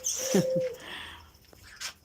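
Brief bird calls and cooing up close in an aviary with budgerigars, a couple of short chirps and a low hoot-like coo, with no talking.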